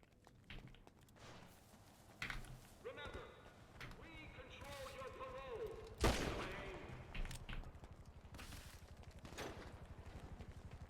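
Video game gunfire, a few faint shots and bursts buried under loud, excited talking and background game noise.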